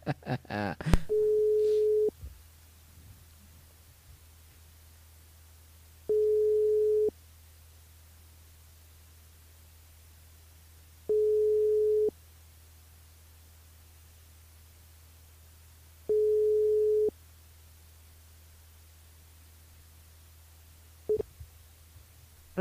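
A telephone busy tone sounds on an unanswered call: a steady beep repeating in evenly spaced bursts about every five seconds, each around a second long, over faint line hiss, with a click at the start and near the end.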